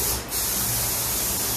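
Osis shine spray is misted onto hair during a South Indian bridal hair prep, heard as a close, continuous breathy hiss with a brief dip in the middle.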